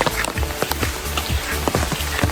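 Rain falls near Sigiriya in Sri Lanka, a dense, close patter with heavier drops tapping on a surface in quick, uneven bursts throughout.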